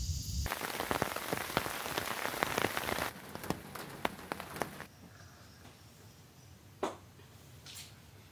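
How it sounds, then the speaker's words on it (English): Rain showers fall outdoors on a cool summer day in southeast Queensland, a loud dense patter that drops to a softer steady hiss partway through, with a few sharper drips. "Today's turned out to be a bit of a rainy, showery, cool sort of day"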